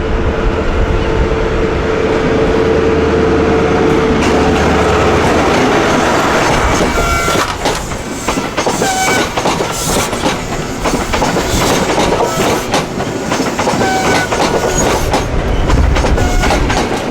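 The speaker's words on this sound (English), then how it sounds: "GWR Castle Class 43 pulling in on platform 7." A GWR Castle Class 43 train pulls into a platform at Plymouth station, a loud steady rumble with rhythmic wheel clicks over the rail joints and faint squeals as it slows.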